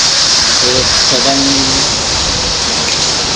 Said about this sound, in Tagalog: malakas na po yung ulan, tapos yung hangin ngayong umaga